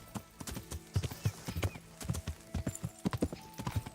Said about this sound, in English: Yeah, this horse is slow.